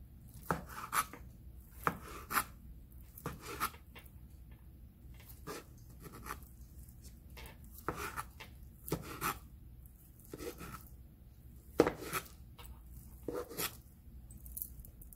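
A knife chops a rolled-up omelette into thin strips on a cutting board, with sharp, steady knife strikes repeating at an uneven rhythm. The sound is close and fairly quiet, and no one speaks.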